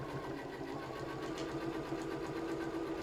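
A sewing machine runs a second row of stitches just inside the seam allowance on a fabric project, a steady close-up whirring hum with a fast regular needle rhythm that continues for the whole stretch without pause.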